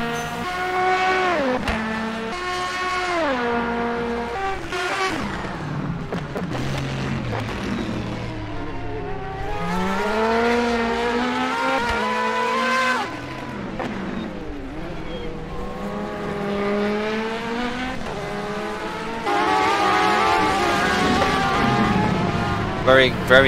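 Race cars in a multiclass endurance sim racing game crossing the finish line, their engines whining and rising and falling in pitch through gear changes and passes, running steadily under a commentator's voice.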